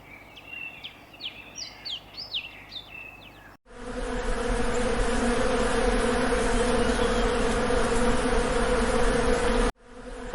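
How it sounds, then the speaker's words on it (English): Bees buzz in a jungle setting, a loud sustained drone after a few seconds of chirping birdsong, ending with a sudden cut. "Hello, buzzing bees."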